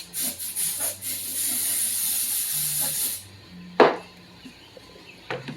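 Mold release sprayed from an aerosol can onto a mold for casting Vytaflex 40 Robocop gloves: a loud, continuous hiss lasting about three seconds, then a short sharp clatter and a few faint knocks.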